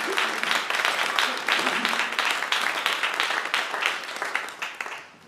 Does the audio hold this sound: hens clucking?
no